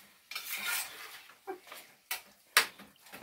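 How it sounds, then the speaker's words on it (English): A spoon stirs tomato paste into beef stroganoff in a metal pot, scraping and clinking in several separate sharp strokes with quiet pauses between, close and fairly loud. "I got to get that tomato paste and stuff stirred in here real good"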